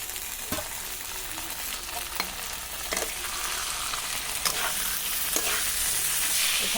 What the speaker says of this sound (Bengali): এই যে এখন সিদ্ধ করা মোচাটা দিয়ে দিচ্ছি।